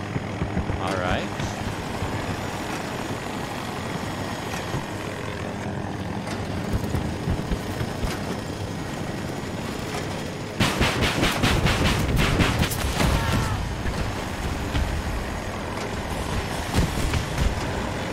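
A jet roars overhead in the video game Battlefield 2042. A loud, steady wash of engine noise fills the whole stretch and surges sharply partway through as the aircraft passes close, mixed with battle noise.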